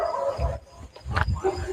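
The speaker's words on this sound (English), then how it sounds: "There's like a dozen dogs just came running off this property over there" A pack of around a dozen dogs barks from an Appalachian property, a few loud yips and bow-wows at middle distance, mixed with a voice speaking nearby.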